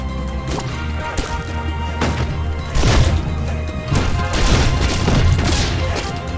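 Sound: bomb smashing into player in Burrito Bison video game

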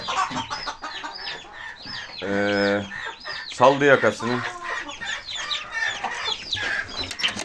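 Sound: hens clucking in chicken coop

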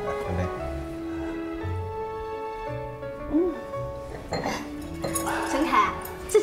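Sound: glasses clinking in a toast at dinner

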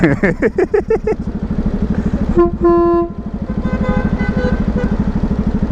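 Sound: car horn honking

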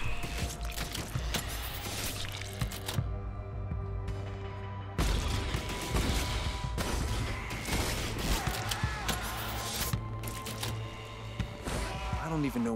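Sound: gunfire and explosions in The Anacrusis video game

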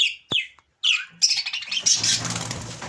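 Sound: budgerigar chicks chirping

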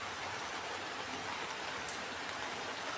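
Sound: heavy rain falling

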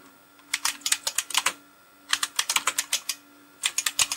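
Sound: typing on an IBM Model F keyboard

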